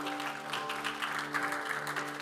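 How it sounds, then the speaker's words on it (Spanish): A church congregation claps together in steady, dense applause throughout, with a sustained musical tone humming beneath. "Den un aplauso fuerte a Cristo porque Él es bueno."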